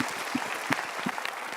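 A brief patch of audience applause at a motivational talk, with a few sharper individual claps standing out from a moderate crowd clatter.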